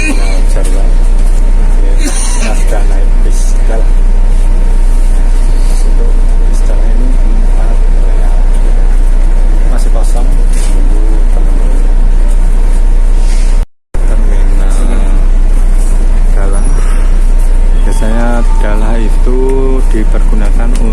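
Inside a bus at Jarwal Terminal, a constant loud low engine hum and rattling cabin noise run throughout, with people talking over it and a brief dropout midway.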